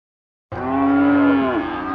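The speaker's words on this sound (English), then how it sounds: "It's another day at the Lampasas cattle auction, but you could say this day is extra busy. Way more cows." A single loud, close cow moo at a busy cattle auction, starting abruptly and holding a steady drawn-out tone that bends downward near the end, with no talk over it.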